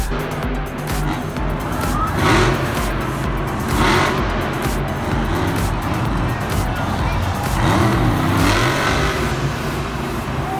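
A toy Grave Digger monster truck spins donuts in sand, giving off a steady, loud whirring motor buzz that rises and dips. Scraping grit runs through it, and faint voices may sit under the motor.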